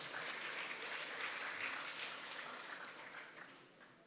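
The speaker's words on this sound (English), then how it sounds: "you can give him a round of applause also" Applause from the audience at a secondary school graduation ceremony, steady but fairly faint and distant, tapering off toward the end.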